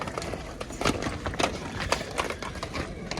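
Horses at a horse market make a steady, busy clatter of hoofbeats on hard ground, with scattered louder clops and faint background bustle throughout.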